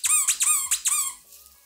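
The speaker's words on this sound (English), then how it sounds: "The cinnamon roll is also crinky and has also squeaky." A squeaky, crinkly cinnamon roll dog toy gives four quick, loud, close squeaks in a regular rhythm, then falls quiet.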